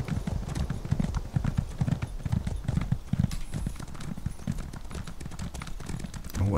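Horse hoofbeats in the game The Elder Scrolls Online, a steady clip-clop gallop running throughout at close range, loud and continuous with no talk over it.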